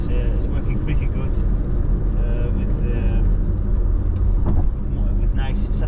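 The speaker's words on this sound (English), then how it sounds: "Except the EV sound that you are hearing" The Audi e-tron GT electric car gives a steady synthetic hum while driving, with road and cabin noise beneath someone talking throughout.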